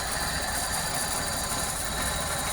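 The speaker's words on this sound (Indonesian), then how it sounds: "Kondisi ruang mesin ketika mesin stasioner," A 2004 Suzuki Karimun engine idles in the engine bay, a steady, dense mechanical clatter and whir heard close and continuous, with no talk.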